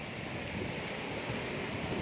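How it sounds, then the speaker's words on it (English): Ocean waves roll onto Calangute Beach in Goa at night, a steady broadband rush of surf with some wind noise, close and continuous throughout. "Here comes the water rushing to greet us"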